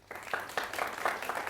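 Audience applause at a debate event, a short spell of scattered hand clapping at moderate volume, steady without swelling.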